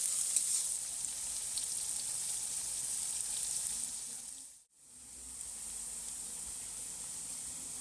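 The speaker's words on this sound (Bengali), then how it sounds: "এবারে আমি নেড়ে চলে দিচ্ছি" Onions fry in a pan with a steady, bright sizzle and hiss, broken by a brief dip in the middle as they are stirred, then the sizzling resumes at full strength.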